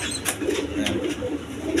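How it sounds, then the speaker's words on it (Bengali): Big-sized pigeons, a pair kept with a chick, give low, murmuring coos in short repeated phrases close up, amid light rustling and background hiss. "একদম বিগ সাইজের দেখার মতো কবুতর"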